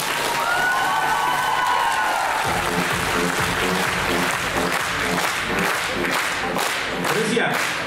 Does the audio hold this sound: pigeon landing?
no